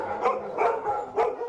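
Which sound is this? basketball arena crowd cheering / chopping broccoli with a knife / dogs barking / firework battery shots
dogs barking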